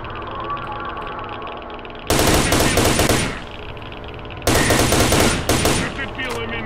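Loud automatic gunfire in S.T.A.L.K.E.R.: Shadow of Chernobyl, two long rapid bursts shot at a barrel, each several seconds long and separated by a short lull with quieter in-game sound.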